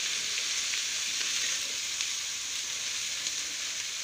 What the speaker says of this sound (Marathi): भाज्या आपण व्यवस्थित तेलामध्ये परतून घेणार आहोत.